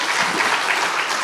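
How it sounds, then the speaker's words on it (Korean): A church congregation claps together in a dense, steady burst of applause, loud and close, with no talking over it. "박수 한번 쳐라."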